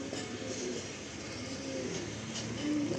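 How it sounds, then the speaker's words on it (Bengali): A green Madrasi breeder pigeon, a female with reddish eyes, gives soft, low cooing notes at close range over a faint background hum, with a slightly clearer coo near the end. "সবুজ পায়রা, রেগদার চোখের ফিমেল।"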